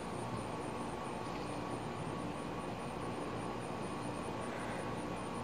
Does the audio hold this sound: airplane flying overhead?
yes